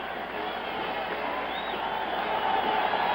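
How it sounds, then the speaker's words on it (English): A stadium crowd at an Oakland Raiders home game against the New York Jets roars and applauds Joe Namath, a dense, distant wash of cheering that swells slightly toward the end. "Their fans are giving him a standing ovation."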